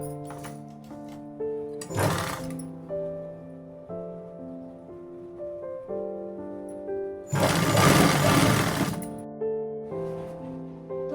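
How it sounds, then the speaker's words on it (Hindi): A sewing machine stitches the folded hem of a palazzo, running in two loud whirring bursts, one brief and one longer, between stretches of soft background music. "इस तरह से मोड़ के सिलाई लगा लेंगे।"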